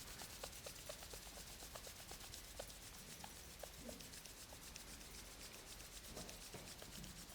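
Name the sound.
hands rubbing together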